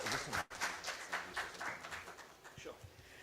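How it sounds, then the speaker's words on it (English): An audience at a live business event gives applause, a moderate wash of clapping that swells and fades in uneven bursts, mixed with voices speaking over it. "Can you have a huge round of applause for Mr."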